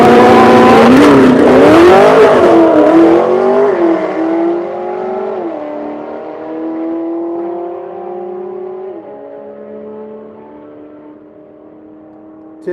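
A Corvette E-Ray drag racing another car at Quaker City: a loud, close engine roar revving hard at launch, then a steady, receding drone with falling shifts that fades over several seconds.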